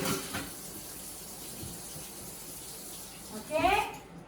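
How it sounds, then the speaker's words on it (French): A knife and meat grinder disc being washed under hot running tap water, a steady faint splashing stream that swells briefly near the end as water gushes louder. "Je lave bien le couteau et le disque tout de suite, comme ça, il se nettoie très, très bien tout de suite avec de l'eau chaude"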